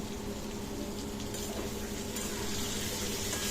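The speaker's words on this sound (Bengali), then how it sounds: "ইঁচড়ের আলুটা ভাজছি জিরে ফোড়ন দিয়ে ইঁচড়ের আলুটা ভেজে নিচ্ছি" Potatoes fry in a pan with cumin seeds as a dense, even sizzle that holds steady and close throughout, with no talk.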